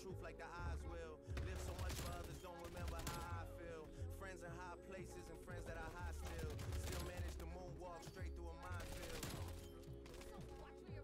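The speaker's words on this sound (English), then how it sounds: "Stop shooting at me." Gunfire from the video game Black Ops Cold War, bursts of shots packed into a dense, loud mix with game music and effects throughout, while voices talk over the action.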